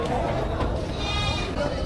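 Goats bleat at a Philippine livestock market, their wavering calls rising over a busy crowd of voices and general market hubbub.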